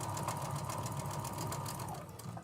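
A sewing machine stitches seams close up in a home sewing room, a steady, rapid mechanical chatter with a hum beneath it, alone and without voices.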